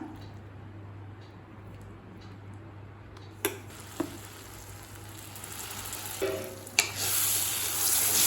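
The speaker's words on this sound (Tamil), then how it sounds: "அடி பிடிக்காமல் இருக்க நல்லா கலரி விட்டுருங்க." Mashed banana halwa being stirred in a pan, a soft sizzle and bubbling under intermittent scraping and knocks of the spoon, growing louder toward the end.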